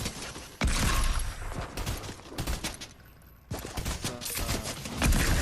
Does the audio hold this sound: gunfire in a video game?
yes